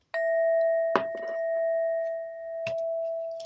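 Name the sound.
bell being struck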